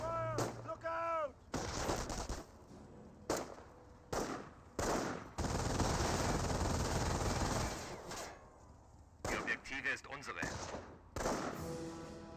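Gunfire and artillery from Company of Heroes play out as repeated loud broadband blasts and rattling bursts, with a long sustained barrage in the middle and a commentator's voice breaking in between the volleys.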